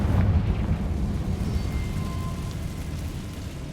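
A Confringo fire spell explodes in Hogwarts Legacy, opening with a heavy boom that settles into a long, rough, crackling rumble that fades slowly.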